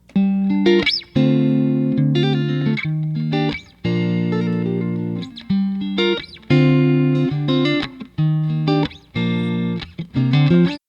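A dry, unprocessed electric guitar plays a riff of short chords and single notes, with brief gaps between phrases and no voices.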